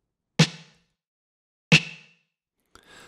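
Two separate snare hits ring out with a harsh, piercing metallic resonance, followed by a third quieter sound at the end.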